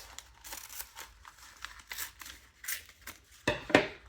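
Scissors snip up the side of a paper cone, the pattern for a luminaire Christmas tree, in a string of soft crinkly cuts and paper rustles ending in two sharper crisp snips, close and quiet with no talk.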